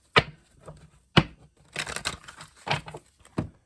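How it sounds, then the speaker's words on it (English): Tarot cards are shuffled by hand in sharp, irregular bursts of riffling and slapping, several distinct crisp snaps with softer rustling between, close and alone. "Just want to let you know that I'm shuffling and not just taking the same stuff."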